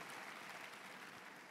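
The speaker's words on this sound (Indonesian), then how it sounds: "Tepuk tangan buat Tuhan Bapak Ibu yang dikasihi oleh Tuhan." A church congregation claps together in dense, even applause that holds steady for a moment, fairly faint and heard alone without speech.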